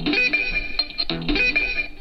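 Music plays through small, thin-sounding AKG speakers on a Samsung Galaxy Book Flex2 5G laptop, slightly distorted, with a steady beat and bright tones throughout.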